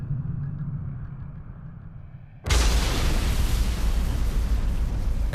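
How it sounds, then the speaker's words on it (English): Quiet low rumbling suddenly gives way to a loud World War II-era explosion, followed by a sustained roaring blast that fills the rest of the clip. "Then there's a shattering explosion."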